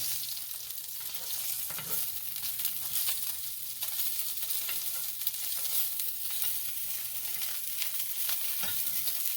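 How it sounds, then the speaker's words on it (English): Salmon searing skin-down in hot oil in a hot pan, a constant bright crackling sizzle that stays dense and even throughout, with a faint hum beneath and a couple of small utensil knocks. "I'm cooking with hot oil from the top, cooking with a hot pan from the bottom"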